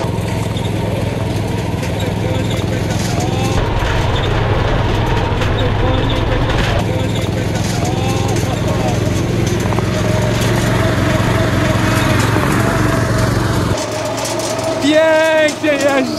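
A homemade tank's engine chugs loudly and steadily as the tank drives off, then cuts out abruptly near the end, with excited voices calling out over the last seconds.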